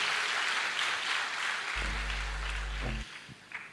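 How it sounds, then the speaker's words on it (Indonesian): A church congregation claps for its praise and worship team, a broad, steady wash of applause filling the hall throughout, with a low organ-like tone swelling briefly beneath it midway. "Boleh tepuk tangannya di extend buat tim praise and worship kita."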